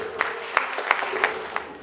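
Audience applause at an online journalism event welcoming a journalist and writer, a short burst of scattered claps at moderate distance with no one speaking.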